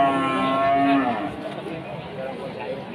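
Cattle moo loudly and close by at the Pon Blora livestock market, where the young Pegon feeder cattle are sold. A drawn-out low bellow is followed by a steady din of the herd.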